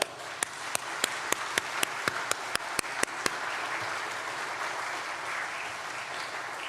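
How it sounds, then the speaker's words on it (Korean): A congregation at a church retreat service welcomes the preacher with applause, sharp regular claps from one nearby person ringing out over the soft crowd clapping early on, then the sustained applause carrying on alone. "우리 다 같이 박수로 환영하겠습니다"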